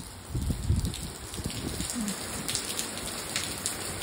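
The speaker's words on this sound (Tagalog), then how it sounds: "Mas lalong lumakas yung ulan, guys." Heavy, windy rain in Dubai pours steadily, drumming on a surface close by, with a constant dense hiss and a few louder splashes early on.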